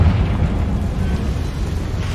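A Confringo fire spell blast in Hogwarts Legacy, a deep rumbling explosion with a heavy low boom tailing into a rolling roar, loud and close, with no talk.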